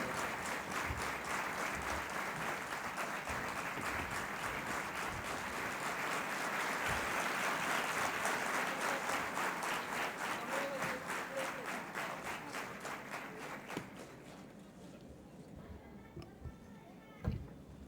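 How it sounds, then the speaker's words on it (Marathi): A hall audience at a study circle event claps loudly and steadily for about fourteen seconds before the applause thins to a few scattered claps. "पुन्हा एकदा जोरदार टाळ्या."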